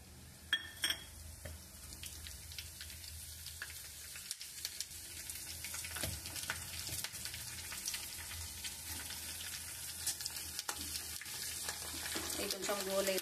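Mustard seeds and spices for tempering crackle and sizzle in about two tablespoons of hot oil for Telangana-style tamarind rasam, a soft continuous hiss broken by scattered pops and a few light utensil clinks.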